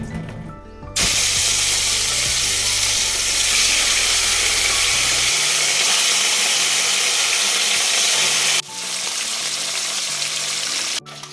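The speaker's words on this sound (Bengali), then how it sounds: "আর এখানে মাছগুলো নুন হলুদ মাখিয়ে রেখেছি, ভাজবো, ভেজে রাখি" Fish pieces rubbed with salt and turmeric fry in a pan, giving a loud, close, continuous sizzling hiss that cuts out briefly near the end and then resumes, with a low hum underneath.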